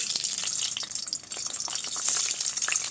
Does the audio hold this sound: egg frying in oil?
yes